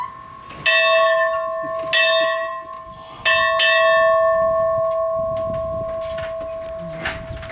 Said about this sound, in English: I'd better ring the school bell.